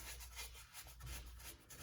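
Close rubbing and scrubbing on a car engine coil during work on a Subaru STI, a steady rasping friction with small rhythmic swells, alone without talk.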